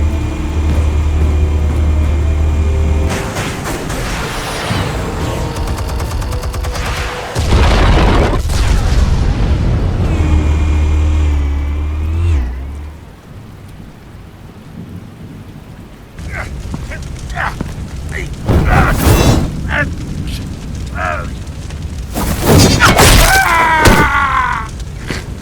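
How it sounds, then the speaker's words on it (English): Explosives detonating in the video game Batman The Telltale Series, several loud booming blasts with rumbling tails separated by short quieter gaps, mixed with crackling debris and other game sounds. "Explosives armed. Fire when ready."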